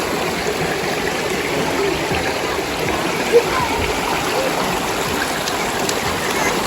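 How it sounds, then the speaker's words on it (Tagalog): A clean river in Silang, Cavite, in the Philippines flows nearby with a steady, close rush of water that holds an even level throughout, with one brief splash partway through. "Ito po ang ilog namin. Tingnan nyo, napakalinis."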